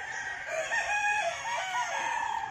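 A Kelso brood rooster, a pure-line breeding gamecock, crows in a drawn-out, wavering call, fairly close and clear over a steady background hiss.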